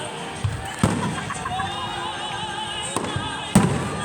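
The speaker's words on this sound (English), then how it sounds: "Those were beautiful fireworks." Fireworks bursting over a beach show at night, several sharp booms spaced a few seconds apart with crackling tails, heard from a distance amid a faint crowd murmur.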